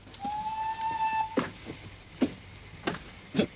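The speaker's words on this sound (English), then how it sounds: "The train is being moved into the station." A train moves into a station: a steady whistle tone over a hissing rumble, then a few sharp, evenly spaced clanks, at moderate distance.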